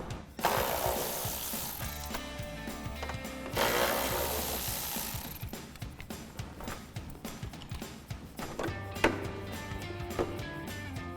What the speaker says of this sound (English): take out our 2 8mm bolts to access the wiring to our turn signal and marker light